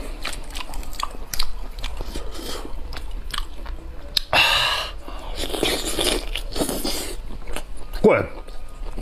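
Fishermen eating a seafood meal of octopus: close, wet biting and chewing with crunchy bites, while voices talk over it.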